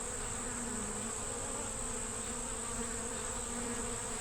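Honeybees buzz steadily and densely over a brood frame holding larvae and a bright queen, an even, close hum with no talking.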